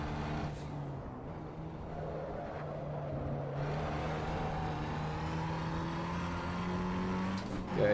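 Ferrari in Assetto Corsa EVO, a steady engine hum holding a rising tonal pitch with low tyre rumble underneath, fairly even and close, with a brief swell at the very end.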